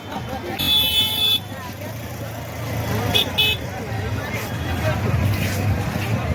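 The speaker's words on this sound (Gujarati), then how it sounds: "full traffic" Heavy road traffic at the Patan fair, with engines rumbling close by, several bright car horn toots and a crowd babbling in the background. Voices talk over the traffic noise.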